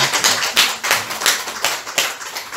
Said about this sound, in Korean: 여러분 우리 장미 고맙다고 우리 한번 박수 한번 쳐줄까요?